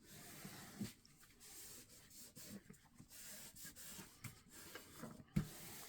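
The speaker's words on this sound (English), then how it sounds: "Just make sure we burnish out all that." Quiet, close rubbing and scraping as a tool burnishes paper onto a tri-fold album page, soft irregular strokes with a few small taps, no talking.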